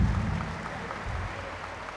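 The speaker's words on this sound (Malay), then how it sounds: "Bagi Anda satu tepukan yang luar biasa." An audience at a seminar claps in a brief, dense burst that is fairly close and steady and fades slightly toward the end.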